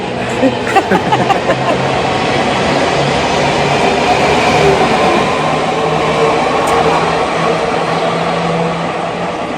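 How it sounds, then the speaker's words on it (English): A train rumbles past in a steady, loud broadband roar that holds for the whole stretch, with some clattering and brief voices near the start. "Train's coming."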